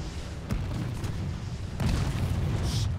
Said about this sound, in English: I used up too many explosive rounds, so I'm gonna redo this